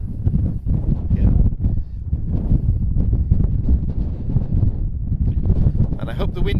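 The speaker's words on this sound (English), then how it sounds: "I hope the wind isn't being too disruptive" Strong wind buffets an outdoor microphone at Faro Airport, a steady low rumbling roar with gusty surges throughout, loud and close, while planes are awaited on the approach to runway 10.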